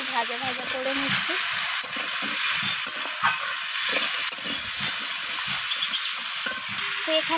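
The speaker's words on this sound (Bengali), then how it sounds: "তো সমস্ত কিছু আমি এখানে নাড়াচাড়া করে একটু ভাজা ভাজা করে নিচ্ছি।" Pumpkin, bitter gourd, eggplant and potatoes frying in a pan while being stirred, a steady close sizzle and hiss broken by repeated scraping strokes of the spatula.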